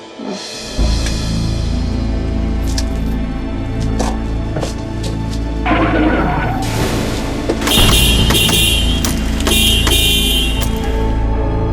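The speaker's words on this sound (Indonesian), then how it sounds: "itu suara mobil" A car approaches under loud, dense background sound with sharp bangs and a short honk-like burst, heard close and steady throughout without clear talk.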